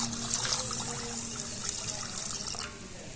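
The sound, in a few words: pouring water over soaked pearl millet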